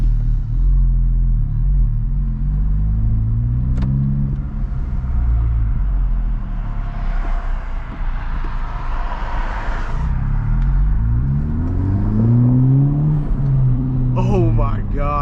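A 2025 Honda Civic Type R with a dual resonator delete rumbles at idle close by, then swells into a brief rev and settles before climbing again near the end.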